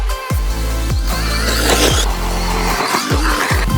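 RD1201 budget RC car tyres skid and squeal as it spins and slides outdoors in wind, with sharp repeated tyre chirps over a steady whine and buzz.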